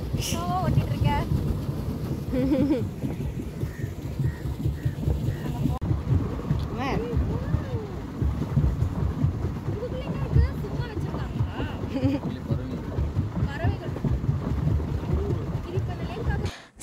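A boat ride on Avadi lake, with low rumbling water and wind noise buffeting the microphone and a voice talking over it nearly the whole time.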